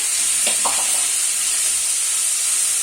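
Vegetables sizzle steadily in a hot pan while cooking chire polao (flattened rice pilaf), a constant bright hiss with a couple of brief stirring scrapes near the start.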